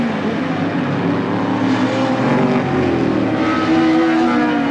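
Holden Monaro V8 race cars, including a 5.8-litre Monaro and a 5-litre V8, race at Calder in 1983 support races. A loud, continuous engine roar with a shifting pitch fills the clip, close and unbroken, with no voices.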